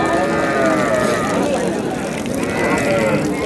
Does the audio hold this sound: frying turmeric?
no